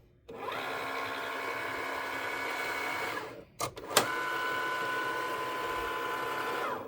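A Cricut cutting machine runs its steady mechanical whir while measuring before cutting, with a brief pause and a couple of sharp clicks partway through before the motor hum resumes.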